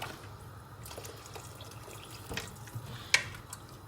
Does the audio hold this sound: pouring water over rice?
yes